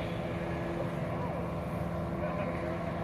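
A boat engine drones steadily on open water, a continuous low rumble with wind in the background.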